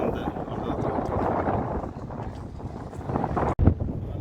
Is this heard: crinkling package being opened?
no